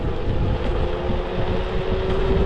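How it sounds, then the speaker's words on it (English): An off-road electric scooter, the Circooter Mate, accelerates in turbo mode outdoors, heard as loud, continuous rushing wind roar with a thin steady motor whine running throughout. "I'm gonna boost it into turbo mode right now, and let's see how much more speed we get"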